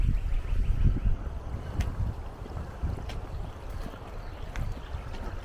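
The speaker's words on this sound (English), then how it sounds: "Hear the wind through the trees." Wind rushes through trees in a park in spring, a steady low roar with gusty swells and a few faint distant clicks, and no voices over it.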